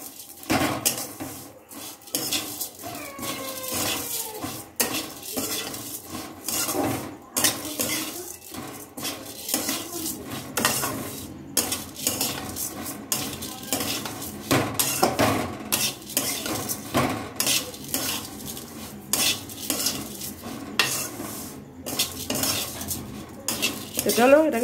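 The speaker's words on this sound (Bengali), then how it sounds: "তো এটাকে এখন ঘি দিয়ে একটু ভেজে নিই।" Vermicelli fried in ghee in a pan on a gas stove, with a metal spoon scraping and clinking steadily against the pan throughout and a soft sizzle underneath.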